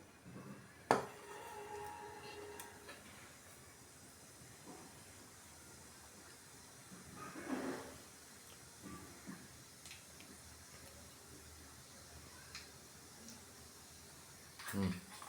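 Mustard seeds and cumin hit hot oil for a vegetable curry, producing a soft continuous hiss with a few sharper pops and brief flare-ups of sizzling, fairly quiet throughout.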